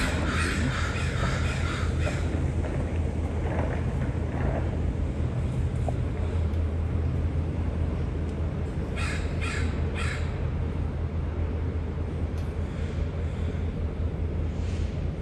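Crows caw several times at a distance in a quiet Vancouver residential neighbourhood, with short bursts of calls over a constant low background of wind and rumble.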